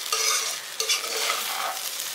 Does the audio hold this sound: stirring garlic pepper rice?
yes